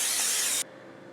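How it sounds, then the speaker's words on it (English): A close, loud burst of non-stick cooking spray hissing onto a grill pan for just over half a second, then cutting off abruptly. "non-stick cooking spray"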